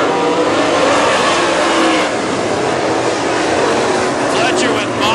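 WISSOTA modified race cars roar around Princeton Speedway in a main event, making a dense continuous engine rumble, loud and steady, with an announcer talking over it.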